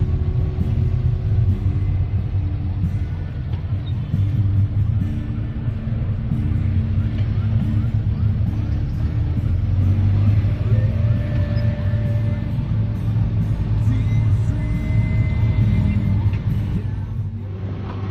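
Vehicles stuck in a traffic jam, a low steady engine rumble heard from inside a vehicle with faint passing traffic, continuous and fairly close, no talk.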